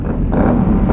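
Steady, loud engine drone from motorcycles rolling out together on a group ride with Can-Am Spyders and sportbikes, a continuous low rumble with a slight swell partway through.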